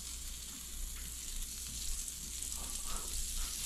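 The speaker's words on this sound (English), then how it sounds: "look at that sizzle though" Steady, crackling sizzle of hash browns frying in a hot pan, continuous and fairly quiet throughout with no talking.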